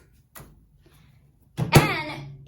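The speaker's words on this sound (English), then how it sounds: "You open your microwave door." A microwave oven door being opened, a faint click followed a moment later by a louder clunk and short rattle of the door swinging, close by in a quiet kitchen.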